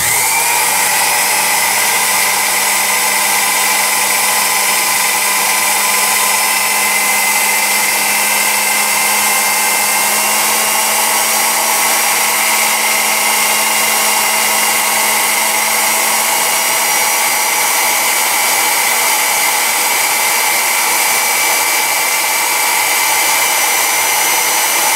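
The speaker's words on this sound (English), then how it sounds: "we'll turn on our drill and see what we get." An old electric drill runs continuously at a steady speed. Its motor gives a loud, even whine with a constant hum underneath and no pauses. No one speaks.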